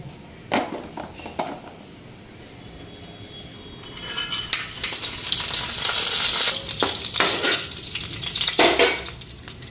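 Potato and eggplant curry with black cumin frying in a pan, a steady sizzle that swells louder partway through, broken by clinks and scrapes of a spoon stirring against the pan.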